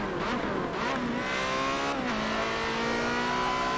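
Race car engine in the Forza video game running at full power, a loud sustained howl with rising pitch, a brief dip around a gear change, then a steady high-rev drone.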